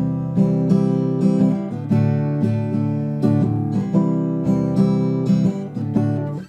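An acoustic guitar strums a steady down-and-up pattern, with chords ringing loud and full and regular accented strokes falling about every second, played alone with no voice.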